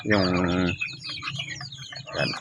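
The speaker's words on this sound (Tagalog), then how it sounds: "Ay hina po yung sisiw." Chicks and fowl at an evening feeding, with one loud drawn-out call up front, then scattered soft peeps and clucks and a brief louder call near the end.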